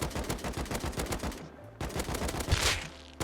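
An AK rifle in the video game Rust fires in rapid full-auto bursts from a seated position. The shots come as a fast, even stream that breaks briefly, then resumes loud and close, with no talking.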